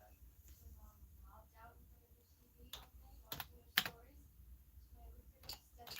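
Computer keyboard keys tap in a few sparse, irregular clicks close to the mic, faint and scattered, in a quiet indoor live-stream setting.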